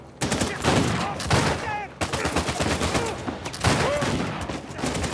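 Flintlock pistol gunfire in the Uncharted 4 video game, with sharp shots ringing out repeatedly amid busy game combat noise and whistling effects, loud and close throughout.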